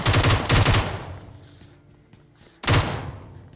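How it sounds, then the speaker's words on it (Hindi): Gunfire in PUBG / BGMI comes as two loud, close bursts of rapid automatic shots, with a quieter gap between them filled with faint distant activity. "यहाँ पे और भी गन साउंड आ रहे थे"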